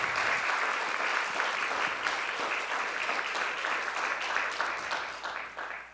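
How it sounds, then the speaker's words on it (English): A round of applause from a seated audience at a talk event, dense steady clapping sustained throughout and tapering slightly at the end. "And can we get a round of applause for Phil"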